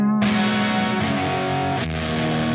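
Electric guitar run through an overdrive pedal with the step gain turned up, playing loud sustained distorted chords with a sharp new attack near the start and two more chord changes, alone with no talking.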